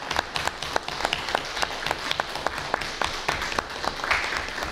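Applause at the installation of the Archettes municipal council: a room of people clapping steadily, moderately loud, with a few sharper claps standing out across the crowd.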